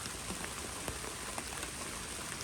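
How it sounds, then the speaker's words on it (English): Steady rain falling outdoors on a house with gutters, a dense, even hiss of drops with scattered small taps, moderately quiet and continuous throughout with no voices. "So now the rain's starting to pick back up here."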